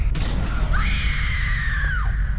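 A scream ability sound effect from the video game Alan Wake: The Signal: a sustained, wavering wail that holds for about a second and a half over a constant low rumble, then drops off.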